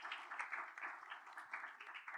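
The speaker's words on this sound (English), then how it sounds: "you deserve yourselves a good round of applause" Faint, distant audience applause at a security policy panel on the Baltic Sea region, a steady wash of many hands clapping with no talk over it.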